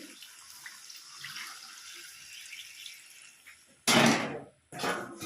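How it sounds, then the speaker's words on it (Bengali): Water poured into a pot of cooking chicken: after a quiet stretch with a faint background sizzle, a loud rushing splash of water suddenly begins, breaks off briefly, then resumes. "এবার আমি জল দিয়ে দেবো এর মধ্যে। দিয়ে দিচ্ছি জল।"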